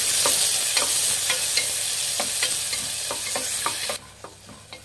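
Finely chopped onion fries in hot oil with a loud, steady sizzle, punctuated by regular scraping strokes of a spatula; near the end the hiss drops away abruptly, leaving only faint scrapes.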